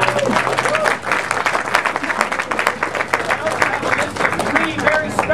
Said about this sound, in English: please raise your hands and let us clap for you again